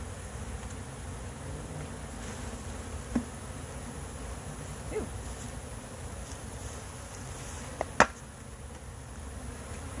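Honey bees swarm around an open hive, a steady, low, close buzzing drone with a few faint knocks and clicks scattered through it.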